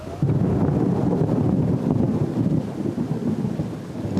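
Heavy night downpour with rolling thunder, a dense, loud, continuous roar of rain and deep rumbling that holds steady throughout without a break.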